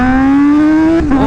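Aprilia or Honda superbike accelerating hard, its loud, close engine note climbing steadily in pitch for about a second before briefly dropping at a gear change and pulling again.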